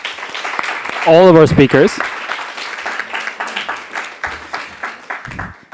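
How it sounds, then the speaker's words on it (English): Audience applause for speakers at a conference on fossil fuel production, moderate clapping continuing under a speaker's voice, which rings out briefly above the crowd before the clapping fades toward the end. "Let's give a round of applause to our speakers, please."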